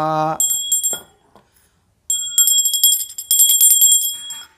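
A brass hand bell rings in quick bursts during an abhishek puja for a Vaishakh Purnima mahabhishek, bright and close, after a short spoken line, with a pause between ringing spells.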